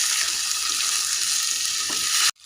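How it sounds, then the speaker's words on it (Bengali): Washed rice is stirred into potatoes frying in a pan for a Bengali aloo dum, giving a loud, continuous close sizzle that cuts off abruptly near the end, with no talking. "এখন এড করব ওই ধুয়ে রাখা চাউলগুলি, ভালো করে মিক্স করে নেব।"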